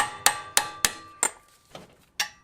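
Six sharp metallic hammer blows strike the back of an impact screwdriver set in a brake screw during a disc brake job, spaced irregularly, close and ringing, with no talk.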